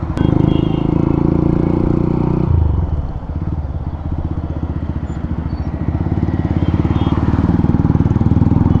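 Hero Xtreme 125R with an Akrapovic full-system exhaust, loud and close, revving hard at first, then dropping to a throbbing, popping idle that slowly builds again; faint voices in the background.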